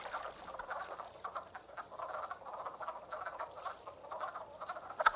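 Frogs croaking steadily in a dense springtime mating chorus in the Shenandoah, many overlapping calls pulsing close and fairly loud with no voices.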